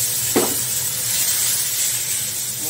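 A ground paste of ginger, garlic and onion goes into a hot pan with a brief burst of sizzle, then a steady close hiss of frying carries on under it, with no talk.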